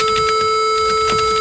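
A steady electronic beep from a computer's PC speaker running TempleOS, a flat pure tone with harmonics, held continuously and loudly throughout.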